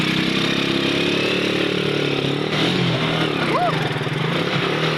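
A motorcycle engine runs steadily at a low, rumbling idle, loud and close, while crossing deep water, with a brief voice and some splashing-like noise toward the end.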